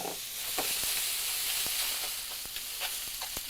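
Shrimp sizzle steadily in avocado oil in a hot pan, a dense continuous frying hiss with occasional sharper pops and crackles, close and fairly quiet, with no talk.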